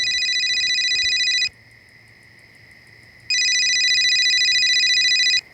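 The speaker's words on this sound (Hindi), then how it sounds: "तेरा फोन बज रहा है।" A telephone rings in two long electronic bursts separated by a short pause, loud and close, with a faint steady hum underneath.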